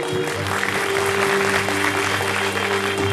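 Audience applause at a live sketch comedy stage contest, sustained steady clapping from a crowd filling the whole moment without a break.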